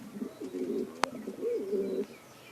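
Soft, low pigeon cooing in a rolling rhythm of several notes, close by, with one sharp click partway through.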